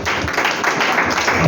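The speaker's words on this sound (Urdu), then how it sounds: "تالیاں بجا سکتے ہیں" A church congregation claps during an Urdu/Hindi sermon, a dense, loud, continuous patter of many hands that fills the whole moment.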